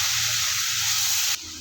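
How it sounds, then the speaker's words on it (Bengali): Ginger-garlic paste frying with browned onion in a pan for a chicken curry, just after a little water is added: a loud, steady sizzling hiss that cuts sharply to a quieter level near the end. "মশলাটা কষানোর জন্য এখানে সামান্য পরিমাণ পানি দিয়ে দেবো"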